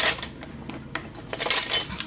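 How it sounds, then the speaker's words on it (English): Small frying pan and metal kitchen utensils handled in a home kitchen while cooking a fry-up, giving a run of close clinks, clatters and scrapes of pans and cutlery over about two seconds, with no talking. "I'm going to need the smaller frying pan for the two eggs."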